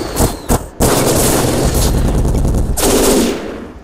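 Rapid automatic gunfire from the video game The Fall: Last Days of Gaia, with a few short bursts followed by a sustained loud stream of shots that tails off near the end.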